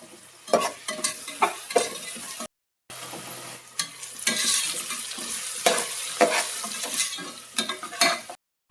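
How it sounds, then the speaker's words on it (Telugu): Oil sizzling as garlic and curry leaves fry, punctuated by frequent stirring scrapes and taps, with a brief silent break partway through. "దంచుకున్న వెల్లుల్లి రెమ్మలు వేసుకొని బాగా ఫ్రై చేసుకోండి"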